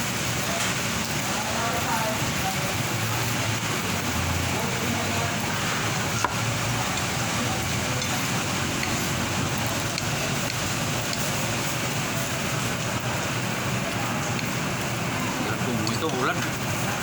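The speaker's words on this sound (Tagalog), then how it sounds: "Ito ulan." Steady rain falling outdoors, a dense continuous hiss of drops on surfaces that holds at an even level throughout with no clear pauses.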